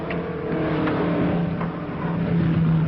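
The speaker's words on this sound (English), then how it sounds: "There's the blonde Comet's car coming out again" A 1940s racing car pulls out onto the track with a moderate engine drone and a low steady hum, running continuously for a few seconds without voices.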